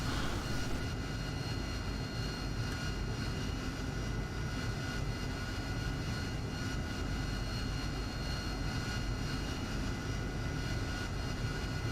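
A Spitfire's engine throttles up for takeoff in a flight simulator, a steady, dense propeller-engine drone that holds at constant loudness throughout with no pauses.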